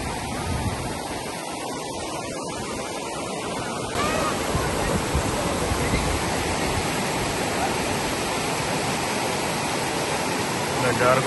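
Fast river water rushes steadily over rocks at a bathing spot, a dense, loud, continuous roar close by that grows slightly fuller partway through.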